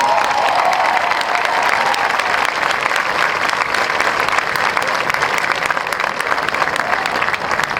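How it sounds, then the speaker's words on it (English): Sustained audience applause fills the hall at a tribute event, a dense, continuous wash of clapping with a few faint cheers mixed in and no speech. "Let's give them a round of applause."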